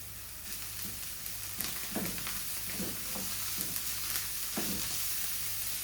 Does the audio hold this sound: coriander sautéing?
yes